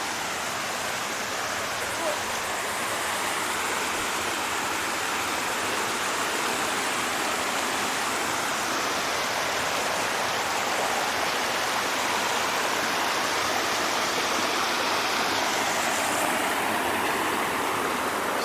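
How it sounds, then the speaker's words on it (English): Stonewall Falls waterfall and cascade on a hiking trail: loud, broad, continuous rushing water, steady throughout with no pauses. "you can see the first waterfall up there in the distance"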